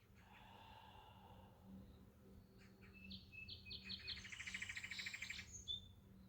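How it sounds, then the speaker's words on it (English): Birds chirp and trill in a bright cluster that grows busier toward the end, over a low steady background hum. "Smile at the sounds of the birds."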